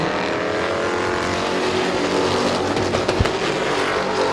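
Stock race cars roar around Midvale Speedway during a battle into turn three, a loud, continuous dense engine drone from a pack of cars, swelling slightly as they pass.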